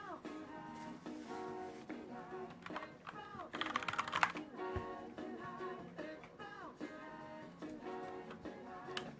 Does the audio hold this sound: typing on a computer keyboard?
yes